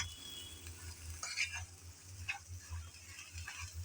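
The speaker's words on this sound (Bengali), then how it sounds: "এখন মশলাগুলো দিয়ে ভালোভাবে নেড়ে চেড়ে ভেজে নিতে হবে।" Sliced okra frying with spices in a pan while being stirred, a soft low sizzle with light scraping and clinking strokes of the spoon at a steady, unhurried pace, close and fairly quiet.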